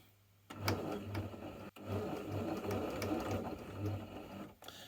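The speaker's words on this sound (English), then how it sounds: "And now we run a second stitch along this line" A sewing machine runs a zigzag stitch through T-shirt fabric in quick bursts of rapid, steady mechanical chatter, with a short pause partway through, close and clear.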